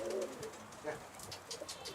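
A loose bird coos softly nearby in a couple of low, rounded calls over faint outdoor background noise.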